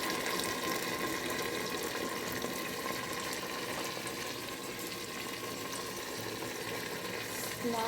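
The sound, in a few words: water being poured in to boil katla fish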